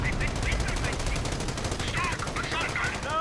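Rapid rifle and machine-gun fire rattles through a World War II-era strategy game battle with riflemen and an anti-tank gun, a fast regular stream of shots layered with whizzing ricochet tones, loud and continuous under faint commentary.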